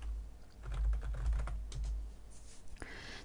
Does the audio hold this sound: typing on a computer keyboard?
yes